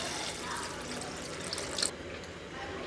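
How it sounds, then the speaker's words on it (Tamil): Tamarind water pours and splashes into a hot pan with a hissing sizzle, a short continuous pour that stops near the end. "புளி தண்ணி ஊற்றிக்கலாம்,"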